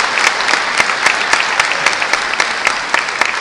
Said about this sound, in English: I want to give a round of applause for our orchestra students and their accompaniment this morning.